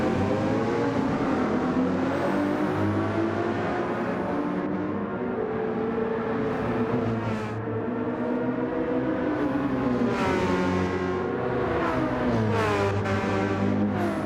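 Race cars in a league racing video game sweep through a big banked turn, a continuous loud engine drone with shifting harmonic whine as several cars run close together, no voices over it.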